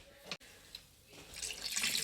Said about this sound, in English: Alright, I'm going to add a little bit of water.